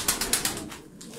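Turkish tumbler pigeons (play birds) flap their wings in three or four sharp, quick bursts up close, followed by a soft coo as the flapping settles.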